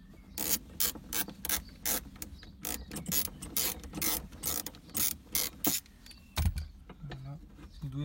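Ratchet wrench loosening a bolt while a BMW E36 drift car is stripped, a steady series of close, sharp ratcheting clicks in repeated bursts, ending with brief knocks and a short voice.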